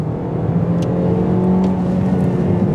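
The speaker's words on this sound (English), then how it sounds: "give you a catback exhaust. So they say at wide open throttle," A 2021 Toyota Corolla Apex Edition with a catback exhaust roars steadily at wide open throttle, a deep continuous exhaust drone heard from inside, loud and sustained.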